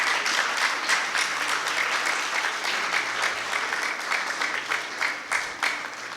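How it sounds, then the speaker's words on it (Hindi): Audience applause at a book launch event in Indore, a dense, steady wash of many hands clapping that carries on without a break across the whole stretch. "आदरणीय राकेश शर्मा जी के लिए हम सभी एक बार जोरदार करतल ध्वनि करें।"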